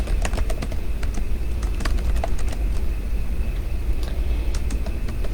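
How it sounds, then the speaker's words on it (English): Continuous clicking of keys on a computer keyboard, irregular in rhythm, over a steady background hum. "as I'm typing this out"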